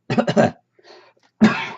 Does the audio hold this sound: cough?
yes